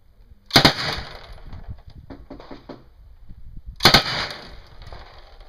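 Two sharp bursts of Uzi submachine gun fire at an outdoor target stage in a Miami Vice themed subgun competition, each a loud, tight cluster of rapid shots, separated by a few seconds of quieter clatter and shuffling.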